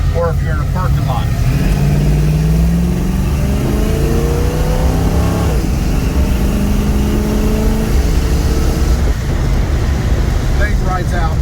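A custom 1963 Chevrolet Nova accelerates on a test drive, its engine note climbing in repeated rising sweeps through the gears, loud and steady under heavy wind rush inside the car.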